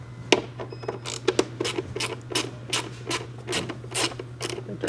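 Ratcheting clicks of a T25 Torx driver loosening screws on an Audi B8 engine airbox, close and fairly loud, in irregular quick bursts over a steady low hum, no talking.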